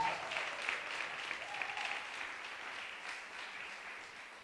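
A church congregation applauds, with dense, steady clapping from many hands that tapers off slightly toward the end.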